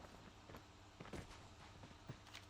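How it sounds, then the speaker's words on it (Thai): Footsteps in Call of Duty Mobile's parachute battle mode: a run of soft, quiet steps thudding at an uneven pace over low game ambience, with no talking. "แต่มีเสียงเท้า"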